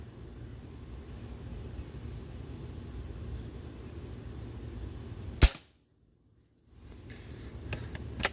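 Two sharp snapping shots from a short-barrelled Webley & Scott Xocet .25 air rifle cut through a steady insect-like hiss in a backyard, one loud crack followed by silence, then a fainter pop near the end.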